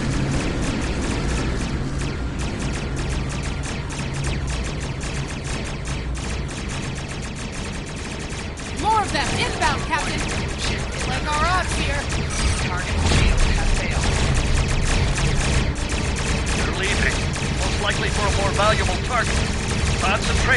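Starship weapons fire in the space combat game Star Trek Online: a dense, continuous barrage of rapid blasts and crackling shots, loud and sustained throughout, with a busy battle din underneath.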